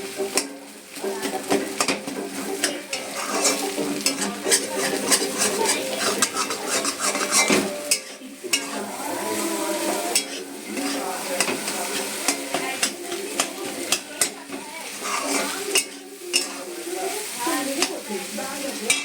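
Egg bhujia, a loosely scrambled egg, is stirred and fried in a pan with a utensil scraping and clinking against the metal over a continuous sizzle, close and busy throughout, with no talk.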